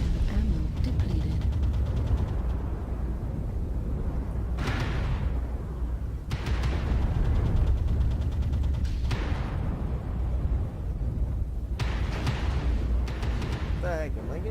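Weapon fire striking a player's mech in a MechWarrior game, heard as recurring heavy thuds and rattling impacts over a constant low mechanical rumble, spaced every few seconds, with occasional talk.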